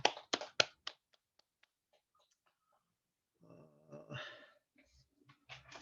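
A handful of sharp, separate hand claps from the audience at a Christian leadership retreat worship service, bunched at the start, then a voice speaking and a few more claps near the end.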